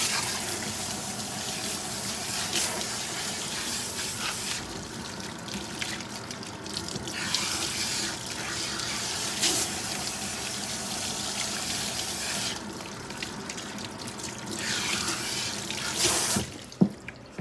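Water runs steadily from a salon sink faucet while a client's hair is rinsed, close and continuous, with shifting splashy surges as the flow hits hair and basin.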